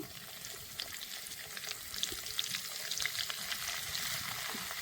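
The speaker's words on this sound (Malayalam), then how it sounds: "ഈ പൊട്ടൽ നിൽക്കുമ്പോൾ നമ്മുടെ എണ്ണ റെഡിയാവുമേ" Tulsi leaves crackle and sizzle in hot coconut oil, a steady dense frying hiss with scattered sharp pops throughout, close and continuous without any talk.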